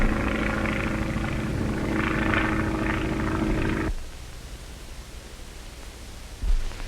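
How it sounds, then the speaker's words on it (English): A 1930s P-26A pursuit plane flying, a loud steady propeller engine drone that cuts off abruptly partway through, leaving a faint hiss. "P-26A pursuit planes, the harnessed Hornet of the air"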